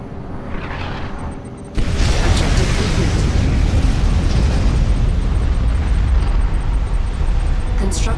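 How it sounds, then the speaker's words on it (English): A liquid Tiberium bomb detonates in Command & Conquer 3: Tiberium Wars, bursting in loud and sudden after a quieter rumbling lead-in, then holding as a dense, roaring wall of blast noise to the end. "Liquid Tiberium bomb launched."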